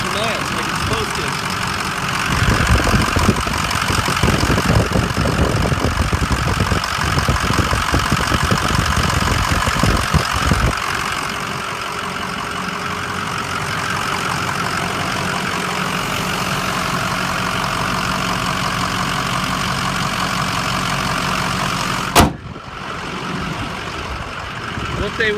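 A 2005 Ford F250 diesel pickup engine runs steadily at idle with a low, continuous rumble, louder and rougher through the first ten seconds, then settling into an even drone before a sharp click near the end.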